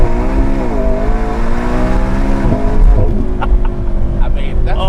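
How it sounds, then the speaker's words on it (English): A McLaren 650S Spider's loud exhaust drones and revs, pitch rising and dipping through a few throttle blips, close and rumbling throughout. "with this exhaust, I don't need it to be any louder"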